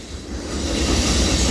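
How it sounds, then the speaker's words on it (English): A long Norfolk Southern freight train rolls past on the tracks, a loud, close rumble of wheels and cars that builds steadily, with no voices. "That is a big, massive freight train."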